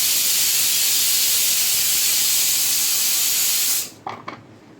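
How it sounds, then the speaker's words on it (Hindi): Steam hisses loudly and steadily from a pot of boiling potatoes, a broad continuous rush that cuts off abruptly near the end, leaving a few faint clinks. "आलू उबल रहे हैं।"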